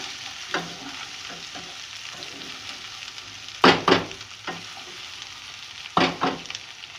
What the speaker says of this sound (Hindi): तमाम भिंडियाँ मैंने प्याज और ऑयल के साथ मिक्स कर दी हैं।